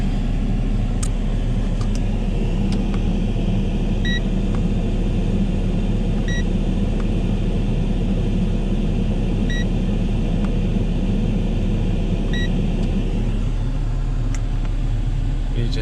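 Heater blower fans running inside a BMW E60 cabin, a steady loud whirring rumble with faint periodic electronic beeps every couple of seconds.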